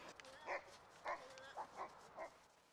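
Labrador puppy in a dog park giving five short, soft yips and whimpering barks spaced about half a second apart, faint against quiet outdoor background.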